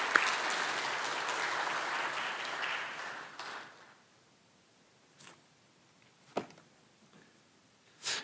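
A church congregation applauds to welcome the pastor at a Korean Baptist church's 49th anniversary Sunday service, steady clapping for about four seconds that then fades out, followed by a few scattered faint knocks and rustles.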